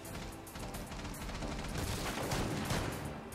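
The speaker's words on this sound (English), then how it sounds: "I'm just shooting at stuff, bro." Dense, continuous gunfire and crashing fills a Rainbow Six match, a busy wash of rapid shots and impacts at moderate loudness with no clear gaps.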